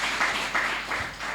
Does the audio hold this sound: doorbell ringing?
no